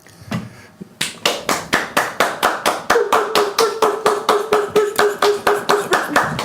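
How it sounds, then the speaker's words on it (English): A small group of people clapping their hands in a steady, even rhythm, sharp and close, with the claps going on for several seconds after a brief murmur. "Oh wait, should we clap?"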